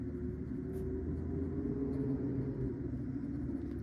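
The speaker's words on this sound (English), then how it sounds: "an oil truck just went down our road, so if you hear that loud truck, that's what it is" A low, steady rumble of a heavy oil truck on a nearby road, droning evenly throughout.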